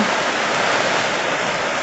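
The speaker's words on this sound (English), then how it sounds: "it's raining a lot" Heavy rain pours down in a dense, continuous hiss, loud and steady throughout, with no talking.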